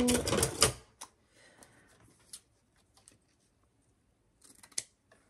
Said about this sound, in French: On va prendre une paire de ciseaux.